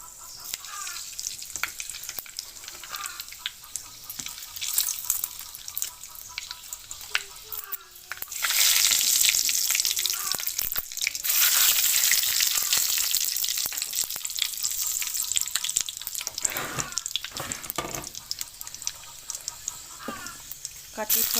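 Panch phoron spices and a paste of garlic, ginger, chilli and coriander leaves sizzle in hot oil for Assamese-style pork with lai greens. The frying hiss swells loudly midway and stays steady, with a voice talking over it.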